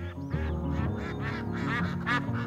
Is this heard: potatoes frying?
no